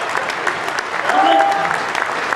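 Audience applause at a live comedy show at Potters in 2008, a dense steady patter of clapping from a room of people with faint background voices.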